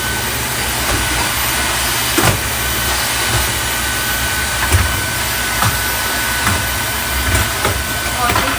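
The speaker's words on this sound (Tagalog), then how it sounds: "Maganda itong vacuum na ito." A loud, steady vacuum cleaner drone runs throughout, with occasional knocks and bumps, and no voices heard.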